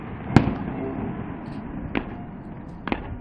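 Fireworks display bursting during a celebratory show in Veliko Tarnovo: three sharp explosive bangs, one loud crack early and two lighter pops later, over a steady murmur of crowd and ambient noise.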